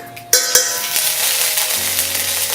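Garlic drops into a pot of hot oil and starts to fry, a few sharp clinks at the start giving way to a steady close sizzle that keeps going on its own.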